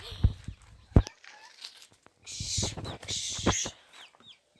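Young chicks, 23 days old, of local and Japanese breeds, give a few thin high cheeps and chirps amid rustling and footsteps, with someone talking nearby.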